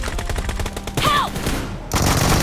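Gunfire in BGMI team deathmatch with an M416 rifle: a rapid automatic burst, then loud ringing shots and further crackling fire, dense and close, with no speech.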